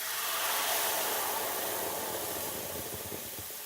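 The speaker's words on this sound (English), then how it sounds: "Now we're just going to pour into the pan, wait for that sizzle." A broad, steady hiss of a sauce sizzling in a hot pan with fat, loud at first and easing slightly, with no talking.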